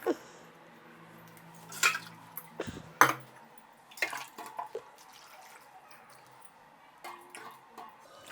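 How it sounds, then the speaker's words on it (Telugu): Tamarind squeezed by hand in a bowl of water, giving sporadic wet squelches, splashes and an occasional clink against the dish, close and irregular with quiet gaps between. "ఇప్పుడు దీంతో నీళ్ళు పోసి బాగా అలుచుకునేద్దాం."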